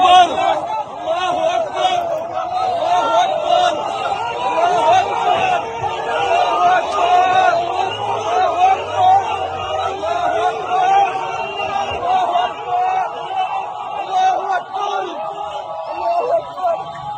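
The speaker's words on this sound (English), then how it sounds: "They were happy. They were cheering." Footage plays of a crowd cheering and chanting, a continuous, loud mass of voices and shouts sustained from start to finish.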